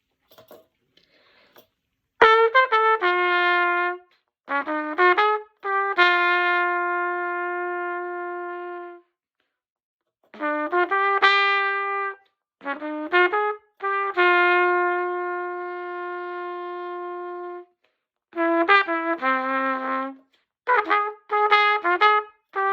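A solo trumpet plays a bouncy, swung jazz melody in short phrases with pauses between them, bright and close, with no other instruments.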